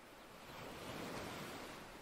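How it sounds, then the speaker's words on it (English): Steady wash of ocean surf rolling onto a black sand beach, a continuous broadband roar that swells slightly in the middle, with some wind noise mixed in and no voices. "the sound of the waves in your ears"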